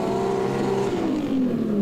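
Drift car engine held near the rev limiter with left-foot braking at a drift series round, a loud sustained high-revving drone with a slowly falling harmonic tone, close and continuous with no talk.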